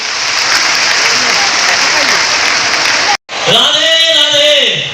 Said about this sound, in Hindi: तो मैं चाहूंगा कि एक बार जोरदार तालियां सभी के